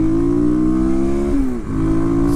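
A Kawasaki KLX250 dual-sport motorcycle engine, heard from the airbox near the cockpit, holds a steady buzzing idle-rev tone, then dips briefly and picks back up, loud and close.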